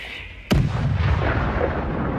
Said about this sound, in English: Ukrainian artillery receives the coordinates and opens fire.